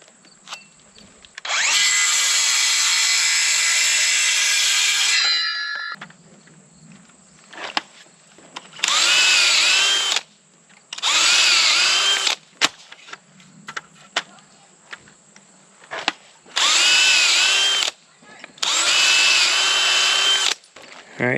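Power drill driving screws into deck stairs outdoors, several loud whirring runs of a few seconds each separated by pauses with faint insect chirps and clicks in the background.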